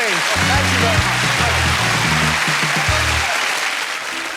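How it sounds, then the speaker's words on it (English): A 1993 television studio audience applauds in a steady, full roar of clapping while a short band tune plays over it, the clapping fading slightly at the end. "Let's give him a big round of applause, shall we?"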